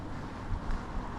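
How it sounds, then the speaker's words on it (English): Wind sweeps through Palolo Valley in Honolulu, a residential valley between two mountains, as a loud, continuous rumbling roar buffeting the microphone, with no voices. "So it gets like pretty windy."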